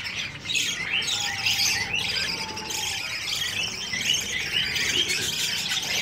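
A colony of pet finches chirps and squawks continuously, many birds overlapping in dense, busy twittering close by, with no pauses across the whole stretch.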